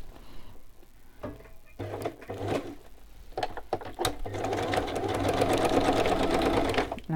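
A sewing machine stitches fabric near a pocket, first with scattered ticks and clicks, then a rapid continuous whirring run that builds and holds close by.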